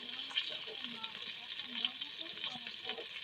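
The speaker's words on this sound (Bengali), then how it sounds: "এবার একটু একদম অল্প পরিমাণে জল দিয়ে দেব" A small splash of water hits sugar in a pan while olive pickle is made without oil, giving a steady hissing sizzle with a voice speaking over it.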